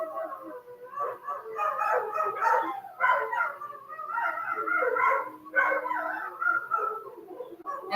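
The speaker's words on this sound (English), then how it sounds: "We got Wolfie's howling. Yes, we do. Awesome sound" A dog howls in long, wavering, pitched cries that rise and fall over several seconds, loud and fairly close, with a few yips between them.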